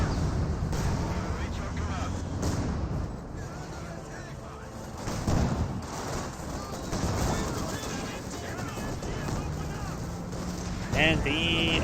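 Soviet Land Mattress rocket artillery fires in a Company of Heroes 2 battle, a dense barrage of booming launches and blasts layered with battlefield noise, running steadily throughout under continuous talk.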